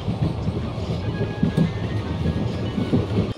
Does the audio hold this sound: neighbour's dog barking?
no